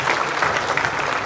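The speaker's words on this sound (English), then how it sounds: "they are deserving of your applause" Audience applause at a Christmas in the Quad concert featuring chamber orchestra, vocal and wind ensembles: steady, dense clapping from a crowd, fairly near, filling the whole short stretch without talk.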